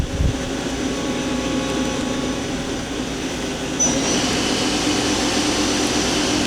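A 2001 Daewoo Puma 230SA CNC lathe with a Fanuc 18iT control runs its main spindle at 1,000 RPM, a steady whirring machine drone with a faint tonal whine that steps up slightly partway through.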